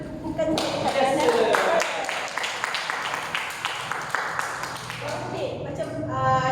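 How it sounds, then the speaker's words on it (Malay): Audience clapping for a woman at a therapy sharing session, a burst of hand claps rising then thinning out, with talking over the start and end. "kita boleh tepukan kepada Liana"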